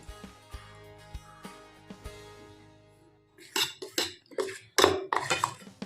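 A spoon clinks sharply against a bowl a few times, then quicker scraping and clattering follows as green chutney is stirred with lemon, the sounds close and fairly quiet with no talking.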